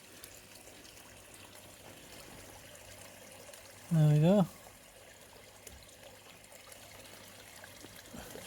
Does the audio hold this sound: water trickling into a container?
yes